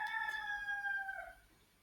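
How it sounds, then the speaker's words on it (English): A chicken's crow rings out once, a short, faint, drawn-out call that rises and trails off, heard from some distance over a quiet indoor background. "You hear the chicken?"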